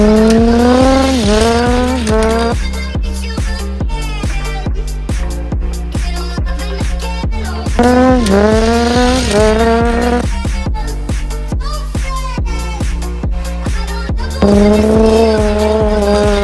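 A Mercedes AMG GT and a Porsche 911 street race, with loud, close engines rising in repeated revving surges and squealing tires under a steady rhythmic pulse.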